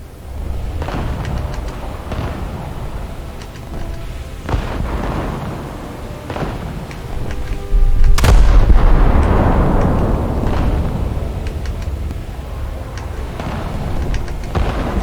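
Naval gunfire and launches from the Japanese light cruiser IJN Suzuya in War Thunder: several sharp blasts spaced across a rumbling sea backdrop, with one heavy loud report midway followed by a long rolling decay.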